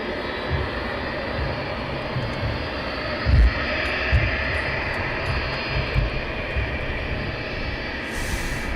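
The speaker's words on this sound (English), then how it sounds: "Have we got a 777? I think it's a biggie coming in." A Boeing 777 jet arriving at East Midlands Airport at night, a steady broad engine roar that stays loud and continuous, with a few low thumps along the way.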